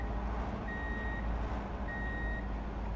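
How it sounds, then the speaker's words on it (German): Reversing beeps from a truck in Truck & Logistics Simulator, two evenly spaced electronic tones over a low engine rumble. "Langsam zusehen, dass wir hier rückwärts fahren."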